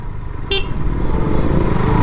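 A motorcycle engine while riding: a loud, close running drone, with a short horn toot near the start.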